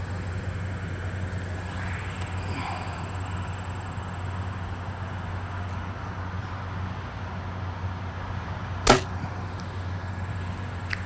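A Bear Whitetail INT compound bow fires an arrow, a single sharp snap near the end, over a steady low hum of background noise.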